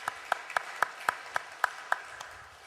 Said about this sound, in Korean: 우리 로고스 찬양대에게도 격려의 박수 부탁드립니다.